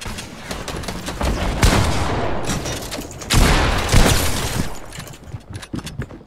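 Rapid gunfire in an online shooter game, with bursts of overlapping shots and a couple of louder blasts, fairly loud and close, with little talk.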